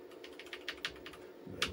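Keys pressed on an IBM PC XT keyboard with a faulty D key, a run of about ten quiet irregular clicks over a soft steady hum, with one sharper press near the end.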